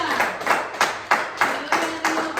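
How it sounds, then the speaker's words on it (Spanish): A church congregation claps for the Lord during a sermon, with a strong, rhythmic, evenly spaced beat of hands in unison, roughly three claps a second, loud and close throughout. "Denle un fuerte aplauso al Señor si se lo van a dar."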